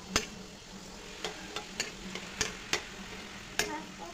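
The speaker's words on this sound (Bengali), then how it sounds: "লঙ্কাটা ভালোভাবে ভাজা হওয়ার পর" Dried red chilies fry in oil for khichuri, giving a soft steady sizzle broken by a string of sharp clicks and taps as a spoon stirs against the pan, close and alone with no voices.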